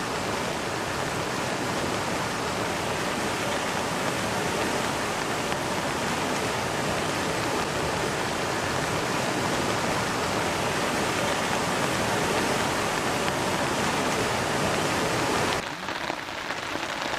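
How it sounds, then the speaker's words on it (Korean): Steady, dense rain and showers fall in parts of South Hamgyong Province, making a continuous hiss of drops on surfaces that stays loud and even throughout. It cuts off abruptly near the end, and no voices are heard. "함경남도 일부 지역에서는 오후부터 비와 소낙비가 내리기 시작했습니다."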